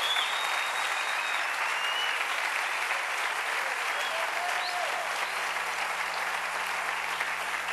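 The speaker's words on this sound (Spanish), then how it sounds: "démosle un aplauso bien fuerte al Rey" A congregation at a church service applauds loudly and steadily, a dense wash of clapping filling the space from start to finish with no pause.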